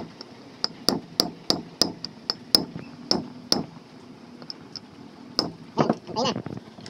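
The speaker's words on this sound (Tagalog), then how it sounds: "Pukpuk lang, dahan-dahan" Gentle hammer taps seating a bearing in a Suzuki Multicab manual transmission, a series of sharp metallic clinks at an uneven, unhurried pace, close by, with someone talking between the strikes.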